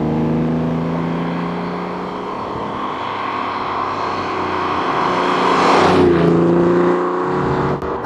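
A TVR Tuscan sports car driving on a smoother stretch of road, its engine a steady loud drone that builds toward a surge of revs near the end, with road and wind noise around it.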